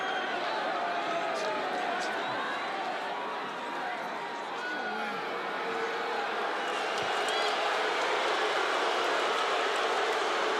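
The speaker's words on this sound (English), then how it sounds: "the crowd doesn't like it" Arena crowd at a UFC fight between Dustin Poirier and Justin Gaethje booing in a dense, sustained roar that swells and dips slightly, filling the space behind the fight's commentary.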